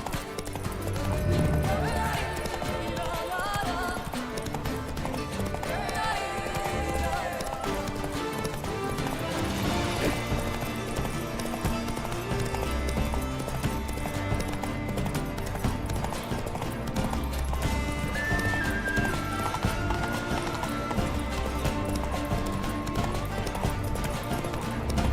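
Roach, a horse in the video game Witcher 3, with hooves clip-clopping at a gallop under a dense, continuous music score that stays loud throughout, plus a faint neigh.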